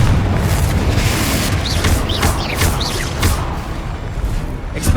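In the game Hogwarts Legacy, the Confringo explosive spell lands as a booming blast, followed by several swooshing bursts of combat over a continuous loud low roar that fills the whole stretch.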